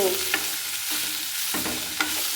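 Fenugreek leaves sautéing in a pan, a steady soft sizzle with a few light scraping stirs of the spatula, close and unaccompanied by talk.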